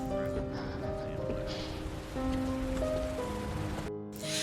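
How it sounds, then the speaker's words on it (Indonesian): Heavy rain pouring steadily, a dense close hiss of drops on surfaces that continues throughout, with tonal music playing over it and a brief drop-out near the end. "sambil diiringi hujan besar"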